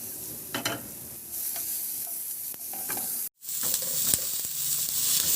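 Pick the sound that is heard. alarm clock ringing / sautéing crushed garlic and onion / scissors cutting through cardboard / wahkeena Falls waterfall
sautéing crushed garlic and onion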